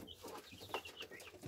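Red broiler chicks cluck softly in a farmyard, a scatter of faint, quick calls close by with no talking over them.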